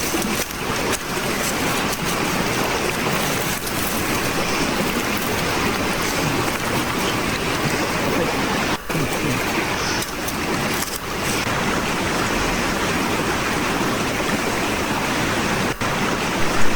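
A stream rushes through a forest creek bed as steady, broadband water noise, close and continuous, with a few faint knocks over it.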